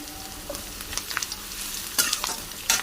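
Chopped onion and grated garlic sizzle in a hot pan with a dried chilli, a steady close-up frying hiss punctuated by a few sharp stirring clicks.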